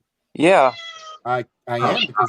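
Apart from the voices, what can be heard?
pet cat meowing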